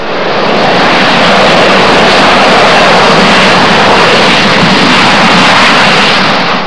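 A Harrier jump jet roars with a loud, steady, broadband jet noise that fills the whole stretch without a break.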